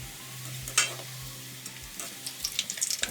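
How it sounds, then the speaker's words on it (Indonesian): Ladrang chip dough fries in hot oil on a gas stove, a soft steady sizzle with occasional bubbling crackles and light stirring clinks, no voices. "kita panaskan, lalu kita ambil adonan tadi, kita goreng"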